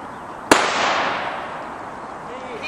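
A single sharp gunshot cracks out during an outdoor dog temperament test, loud and near, followed by a long fading rumble and background noise.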